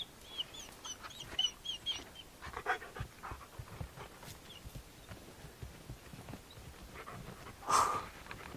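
A dog pants and snorts in short, irregular bursts, excited by a group of mountain sheep in open wild country, with a sharper huff near the end; no one speaks.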